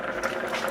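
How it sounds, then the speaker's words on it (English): Broth with bouillon base bubbling in a pan on a stovetop, a brief steady burble of boiling liquid heard close up with no talk over it. "I'm going to move this off of the heat a little bit because it's bubbling a lot"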